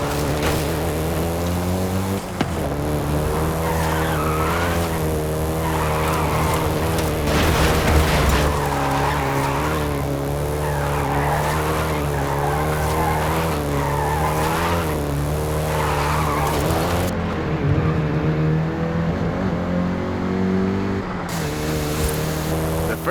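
A Volkswagen Golf GTI races through Forza Horizon 5 with a sustained, droning engine note and repeated squealing tire skids rising and falling. The sound is loud and continuous throughout, with no talking.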